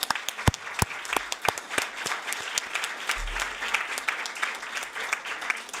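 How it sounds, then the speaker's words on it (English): An audience at an election observation press conference in Ukraine gives scattered applause, sharp individual claps from a modest group in a room, irregular and moderately loud throughout. "he deserves a good luck, good wishes, and a big applause"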